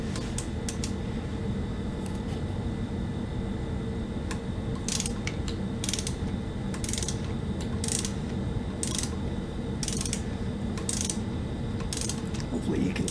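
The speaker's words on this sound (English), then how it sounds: "just demonstrating using a torque wrench. And there it is, 15 foot-pounds." A torque wrench tightens a bolt on a Suzuki DRZ400 motorcycle to 15 foot-pounds during an oil change, giving a series of sharp ratcheting clicks in bursts over a steady low background hum, close up with no talk.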